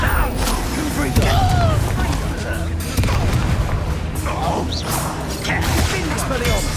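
Repeated booming spell blasts and impacts erupt in a Hogwarts Legacy battle, mixed with whooshes, shouted voices and game music, loud and busy throughout.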